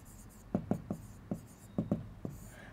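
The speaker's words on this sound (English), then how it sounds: "We write the solution here." A pen scratches a maths solution onto paper in quick, separate strokes, with about eight short, close, quiet scribbles in uneven rhythm.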